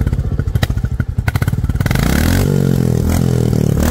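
A 2023 Royal Enfield Standard Bullet motorcycle engine starts with loose clattering thumps, then catches and settles into a steady, loud, close idle rumble.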